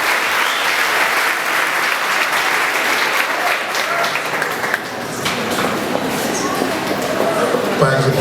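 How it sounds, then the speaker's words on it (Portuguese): A church congregation applauds a married couple celebrating 26 years of marriage, with loud, sustained, dense clapping that carries on evenly throughout. "Vamos aplaudir 26 anos de casado, de vida de matrimônio."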